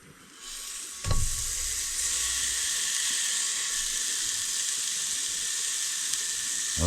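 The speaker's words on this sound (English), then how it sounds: "She's preheated, so she should sizzle a little bit." A pork chop hits a preheated pan at a cold-weather camp and sizzles steadily, a loud continuous hiss that starts abruptly and holds without talk.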